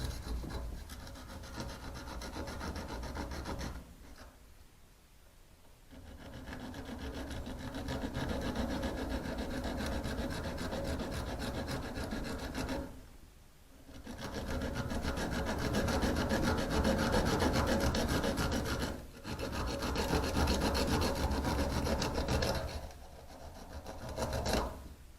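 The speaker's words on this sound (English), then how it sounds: "Basically sawing through the Teflon." A serrated knife saws through Teflon in steady back-and-forth rasping strokes, close and fairly quiet, with a few brief pauses between bursts and no talking.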